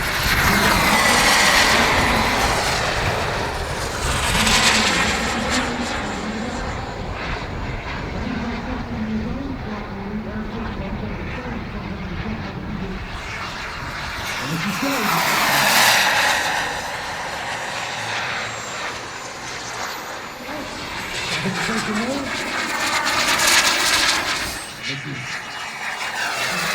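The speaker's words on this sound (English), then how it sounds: "This is Joe Hampson, flying the same as the aircraft flown by Azure" A jet engine roars and whines as an Elite Aerosports Viper Jet model passes overhead at an air show, swelling and fading several times, with someone talking over it.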